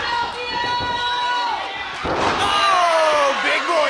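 Punches thrown by one wrestler at another during a live wrestling match, a few sharp slapping impacts over a roaring crowd, with a commentator speaking throughout.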